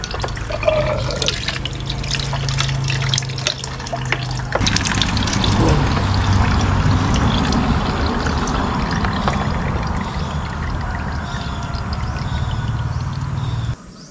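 Coolant drips and trickles from an opened drain on a Yamaha Aerox v2 scooter, a steady wet patter with pouring splashes that runs close by for the whole stretch, with no voices.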